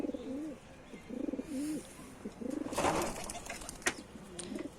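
Pigeons kept as hobby birds, a few silver racing pigeons, give repeated soft throaty coos in short rolling phrases, close by over a steady hiss of background noise, with a few faint chirps and scuffs between calls.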